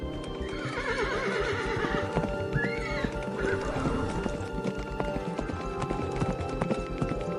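A magical horse gallops with steady clip-clop hoofbeats and gives a clear whinny partway through, loud and continuous over a busy cartoon soundtrack.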